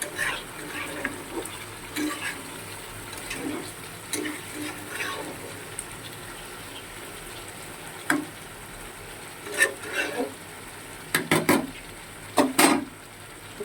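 Lote fish, also called Bombay duck, goes into a hot pan to fry. Soft sizzling runs underneath, broken by scattered clinks and scrapes of utensils against the pan, with a small cluster of sharper knocks near the end.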